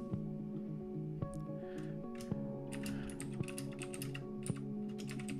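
Keystrokes on a computer keyboard entering a password, a quick run of soft clicks over a steady background hum and faint music, with no talking.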